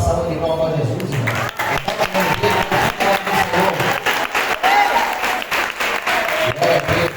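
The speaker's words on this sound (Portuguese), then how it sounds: "Vamos dar uma salva de palmas para Jesus" A church congregation claps for Jesus during an anniversary service, loud rhythmic applause with voices and a low background mixed in.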